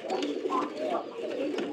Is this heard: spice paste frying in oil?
no